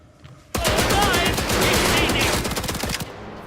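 Sustained automatic gunfire in the video game Indiana Jones and the Great Circle, a loud, dense burst of rapid shots lasting about two and a half seconds before stopping abruptly.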